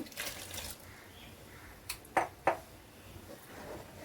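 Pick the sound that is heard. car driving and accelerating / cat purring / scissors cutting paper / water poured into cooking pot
water poured into cooking pot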